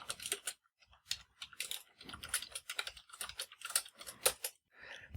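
Python code is typed on a computer keyboard in quick irregular bursts of crisp key clicks, separated by brief pauses, close and fairly clear with no talking.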